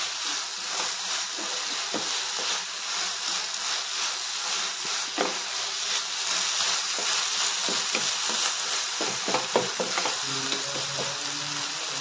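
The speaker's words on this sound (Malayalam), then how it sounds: "ഇടയ്ക്കിടയ്ക്ക് ഇതുപോലെ തുറന്നിട്ട് ഇളക്കി കൊടുക്കണം." Drumstick and onion thoran sizzles steadily in a pan, with a spoon stirring and scraping at irregular intervals, close and continuous with no talking.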